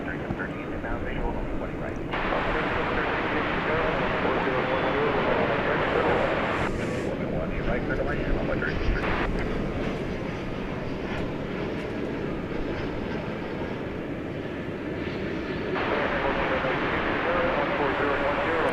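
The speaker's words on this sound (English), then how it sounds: "by that takeoff there from American Flight 1797 going to Las Vegas" An American Airlines jet takes off at DFW Airport at night, a continuous broad engine roar that swells and eases as it climbs away, with a commentator talking over it.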